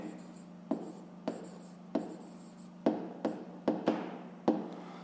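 Pen writing by hand on paper while working a fifth-grade maths exercise: a soft continuous scratch broken by several sharp taps as strokes and marks are made, close and quiet, with no talk.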